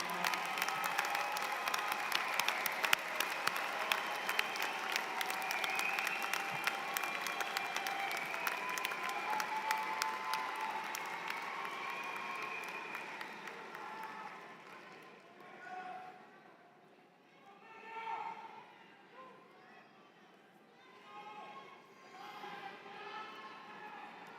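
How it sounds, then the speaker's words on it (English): A crowd at a graduation ceremony claps in loud sustained applause that fades after about fifteen seconds, leaving scattered voices and cheers. "give them a big round of applause"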